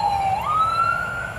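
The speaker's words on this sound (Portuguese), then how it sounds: "Gente, olha lá a ambulância." An ambulance siren wails steadily, its pitch sliding slightly upward as the vehicle passes along a street, fairly loud with no talk.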